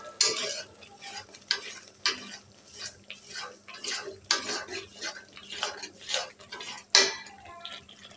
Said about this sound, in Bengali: তো মশলাটা এইভাবে কষিয়ে নেব।